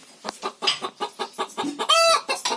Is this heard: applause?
no